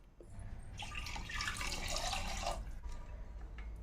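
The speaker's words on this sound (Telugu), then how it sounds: "కొన్ని వాటర్ పోసి పెడదాం." Water poured into a pan of tamarind fish curry, a soft splashing pour that swells for about two seconds and then fades into a quiet background hiss, with no speech.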